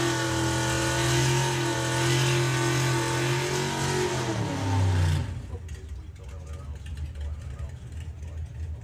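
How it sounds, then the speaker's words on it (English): Drag racing at Santa Pod Raceway: the Honky Tonkin car runs alongside a 50s pickup, engines roaring loud and steady before the sound drops away into a rougher, fainter rumble. "So Steve Matthews with the original Honky Tonkin, going alongside the 50s pickup."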